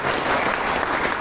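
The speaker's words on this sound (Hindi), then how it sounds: "उनके लिए एक बार आप लोग जोरदार ताली बजाइएगा" Loud, steady applause from an audience at a company gathering, dense clapping that fills the whole clip without letting up.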